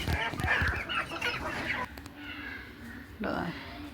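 Fayoumi and Brahma chickens cluck close by at a poultry sale, short throaty calls over a voice talking at first, then a quieter stretch before a sharper squawk.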